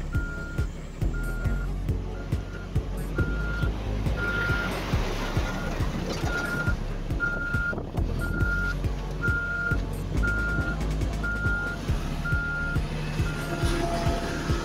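An asphalt paving machine and trucks laying a second asphalt layer on a road in St Thomas, with a truck's reversing beeper repeating at a steady pace over continuous heavy diesel engine rumble, close and loud.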